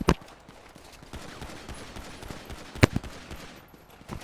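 Video game gunfire sounds as a few sharp shots, one loud burst near the start and another later, over a busy background of scattered clicks and faint thuds.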